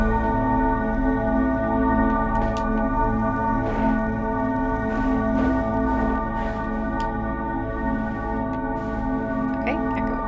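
Bells ringing continuously in the video game Aer, layered sustained tones humming together in a steady resonant drone, with scattered soft clicks and a voice talking over them.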